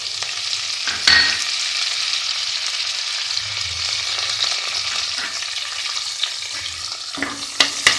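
Steady, crackling sizzle of coriander and mint leaves frying in hot oil, with a few sharp stirring clicks near the start and end; no voices.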